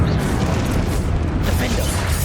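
Confringo explosion spell in Hogwarts Legacy, a loud booming blast with a rumbling low-end burst that swells and fades over a couple of seconds, with a voice calling out around it.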